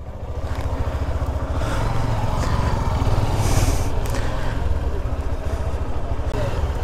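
A motorcycle engine runs near a narrow hill path at Kongjhak hill in Sajek, producing a steady pulsing rumble that swells midway, with occasional faint voices and wind in the background.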